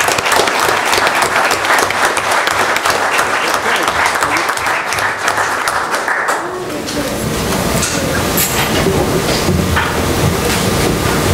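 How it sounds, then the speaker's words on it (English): Applause at a village board of trustees meeting, dense clapping from the room that fades around midway into a quieter rustling murmur and lighter scattered sound. "And one big round of applause again for everyone."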